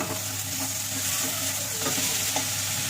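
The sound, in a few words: spice masala with tomatoes sautéed and stirred in pan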